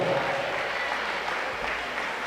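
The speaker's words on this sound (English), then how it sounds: "Give yourselves a round of applause for being on board." A high school basketball crowd in a gym applauds, a fairly faint, even wash of clapping from many people that carries on for a couple of seconds.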